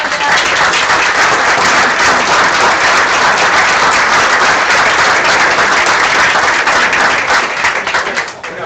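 An audience at a members' meeting of a bird conservation society claps and applauds loudly and without a break for several seconds, a dense even wash of hand claps that fades slightly at the end.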